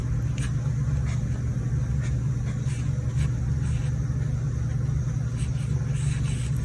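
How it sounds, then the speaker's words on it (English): A lawnmower runs outdoors at a distance, making a steady low engine drone that stays constant and faint throughout, with no talk over it. "Excuse the lawnmower sounds out there."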